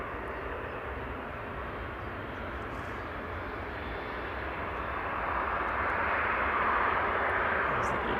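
A small business jet passes at an airport, a steady broadband engine roar that swells louder toward the end.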